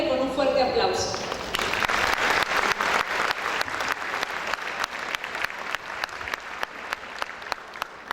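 Audience at a business panel event applauds warmly as a Cargill regional manager is welcomed, a dense burst of clapping that thins into scattered claps, with a voice over the start.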